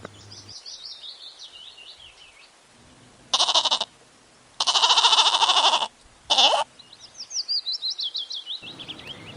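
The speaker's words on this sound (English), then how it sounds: "G for goat." A goat bleats in several loud, wavering bursts, the middle one the longest, set between stretches of chirpy bird-like music.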